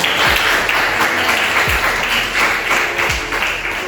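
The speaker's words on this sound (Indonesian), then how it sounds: "Beri aplaus dulu untuk Felicia." A classroom group applauds a student in a steady, fairly loud burst of clapping that lasts the whole few seconds. No talk is heard over it.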